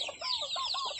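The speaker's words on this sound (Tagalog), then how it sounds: "Ating mga pabo, pinapakawalan ko muna para makakain naman ng mga damo, mga insekto." Turkeys let out to forage on grass and insects give a quick run of high, warbling gobbles and clucks, close and fairly clear over a quiet farmyard.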